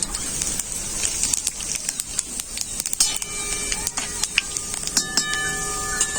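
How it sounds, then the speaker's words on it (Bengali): Bay leaves and cumin seeds sizzle in hot oil with a steady crackling hiss and sharp pops and spits, close and moderately loud, with faint metallic tones joining partway. "তেল গরম হয়ে গেছে দুটো তেজপাতা দিয়ে দিলাম সাদা জিরে"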